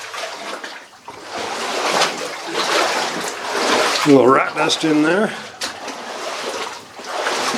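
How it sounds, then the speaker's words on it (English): Water runs and splashes steadily inside an old gold mine tunnel, a continuous close rushing wash, while someone talks over it. "Lots of water running in here."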